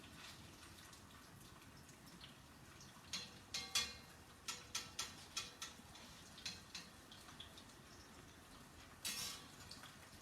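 Meatballs sizzle and bubble as they brown in a heavy Le Creuset pan, a soft steady crackle with a series of sharper ticks and pops, close and fairly quiet, no one talking.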